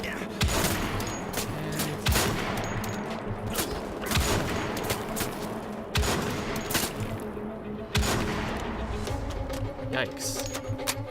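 Turret fire in the video game Wolfenstein: The Old Blood, with heavy gunfire and sharp impacts recurring about every two seconds over dense combat noise, while someone talks throughout.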